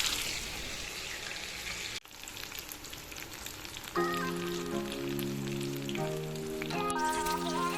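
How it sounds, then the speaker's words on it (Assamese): Taro fritters (kochu pakora) deep-frying in hot oil until dry and crisp, a steady close sizzle that carries on as music joins partway through. "আৰু মই ভাজি আছোঁ"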